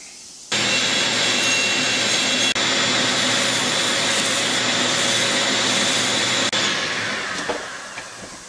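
A power tool grinds the exhaust port of a Farmertech 372XP clone chainsaw cylinder kit. A loud, steady high whir holds for about six seconds, then tapers off.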